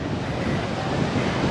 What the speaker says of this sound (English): There's all the wind.